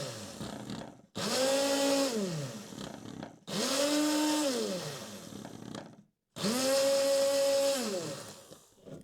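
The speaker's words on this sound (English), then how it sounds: "You go back in with the immersion blender and give it 4 to 5 quick," An immersion blender whirs through body butter in three separate bursts of about two seconds each, with short pauses between them. Each burst spins up and winds down with a loud, close, steady motor whine.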